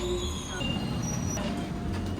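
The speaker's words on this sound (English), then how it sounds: "This is a giant double-decker" A giant double-decker train in Sydney, heard as a steady, dense rumble of wheels and carriage noise throughout, close and continuous.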